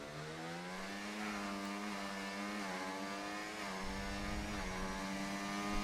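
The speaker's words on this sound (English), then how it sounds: "Sounds similar to the Renault engine in Forza Motorsport 7 and the Renault F1 car" Alpine race car engine in a racing video game, with a Renault F1-style tone, lapping the Miami circuit: a loud, continuous high-revving whine whose layered pitches rise and dip with the throttle, with no talking.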